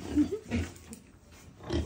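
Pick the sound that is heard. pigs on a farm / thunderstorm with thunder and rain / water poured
pigs on a farm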